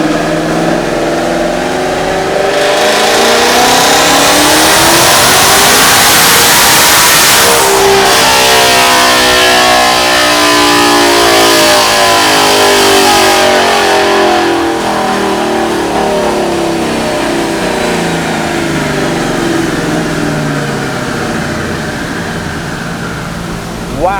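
A 2018-or-later twin-turbo Mustang GT fitted with a billet intake, strapped to a dyno and pulled hard, the engine climbing steadily to a loud high-rpm wail, cutting off, then winding down over many seconds.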